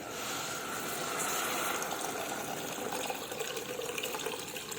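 Water poured into a pot of ezogelin lentil soup, a steady, close rushing stream of liquid that stays fairly even and continuous throughout.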